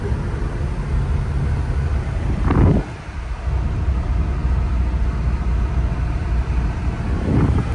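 A 1982 Mercedes-Benz 280SL with a 5-speed manual drives along with a constant engine drone and wind rush, and the engine note briefly changes twice as gears shift.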